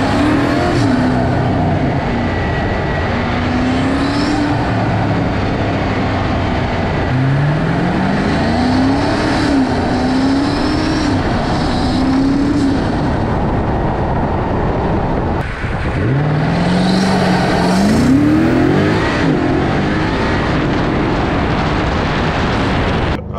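A BMW M5 Competition engine fitted with performance intakes revs repeatedly, rising and falling in several loud, close bursts over a steady rumbling idle.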